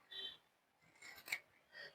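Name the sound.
scissors trimming feathers for a fascinator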